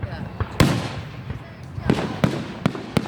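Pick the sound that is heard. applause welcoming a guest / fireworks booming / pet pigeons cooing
fireworks booming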